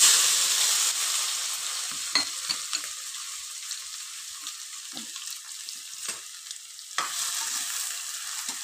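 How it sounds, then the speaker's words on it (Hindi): Cumin seeds sizzle in hot oil in a pan with a steady close hiss, broken by a few sharp scrapes and taps of stirring; no one speaks. "जीरा हल्का ब्राउन होने तक भूनेंगे"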